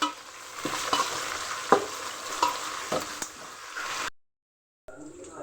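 Green chillies and mint sizzle in a hot pan while being stirred, with a steady fry hiss punctuated by several spoon scrapes, close and fairly loud before a short silence and a quieter return.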